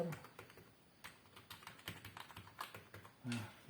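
Fingers tap quickly on a compact L-Shark K35 numeric keypad, a quiet, close run of crisp plastic key clicks in an uneven rhythm, with a firmer press toward the end.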